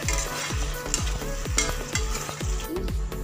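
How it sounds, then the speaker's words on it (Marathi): Mushroom biryani masala is sautéed in a pan, with a rhythmic run of scraping stir strokes over a constant close sizzle. "7 ते 8 मिनिटं आपण ते"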